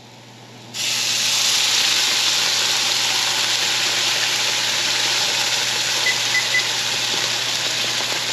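Tomato sauce hits a hot pan with a sudden, loud, steady sizzle that holds at an even hiss for several seconds, close up.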